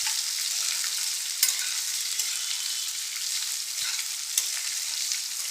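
Thin-sliced okra stir-fried in a pan, a steady bright sizzle with faint scraping as it is mixed, and a couple of sharper clicks from the spatula against the pan.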